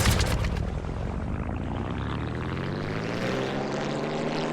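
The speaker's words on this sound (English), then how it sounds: "Oh, I should probably start the plane." A propeller plane's engine starts up in a video game, opening with a loud sputtering rumble that settles into a steady, close drone. No voices are heard.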